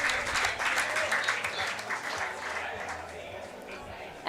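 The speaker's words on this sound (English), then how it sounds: "All the crowd applauding all these players." Crowd applauding the players at the end of a U20 men's lacrosse championship match between Wales and Latvia, a sustained wash of clapping under a commentator's voice.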